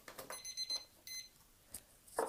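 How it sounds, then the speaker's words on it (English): A timer goes off with a few short, faint electronic beeps in quick bursts, separated by brief pauses, in a quiet room with no one talking. "the timer just went off"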